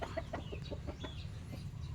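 A chicken clucks softly in a quick series of short notes over a low background hum, fairly faint and with no talking.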